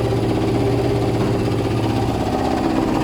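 Steady, continuous drone of a running Kawasaki ZL600 motorcycle engine, not yet up to temperature, loud and close with an even low rumble and no talking.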